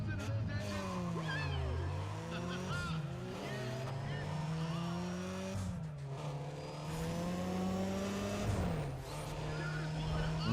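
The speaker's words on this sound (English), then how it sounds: "Will you listen to those engines?" Race car engines roar in Need for Speed ProStreet, rising in pitch through each gear and dropping at shifts, repeated several times, with someone talking excitedly over the engine noise.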